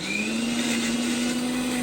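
A kitchen mixer grinder whines steadily at close range, a constant motor drone with a stable tone, running alone without any talk.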